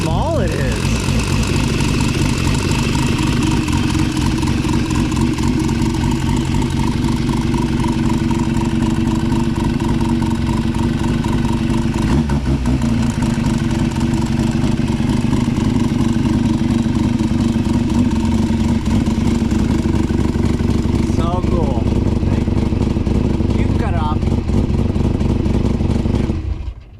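A Mazda S13B rotary engine, capable of 10,000 RPM, idles loudly and steadily with a raspy, buzzing tone and a few brief revs, with people talking over it.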